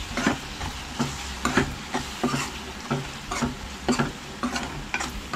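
Koli masala, garam masala, turmeric and black pepper powder are mixed together, probably in a bowl, with steady rhythmic stirring strokes close by, about ten scrapes in a few seconds, with no talking.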